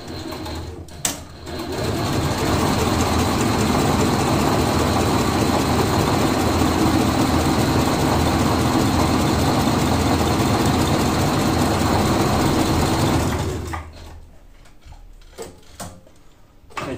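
A sewing machine stitches a large leather piece with a loud, steady mechanical hum and rapid needle chatter that runs for about twelve seconds, then stops, leaving faint handling noises.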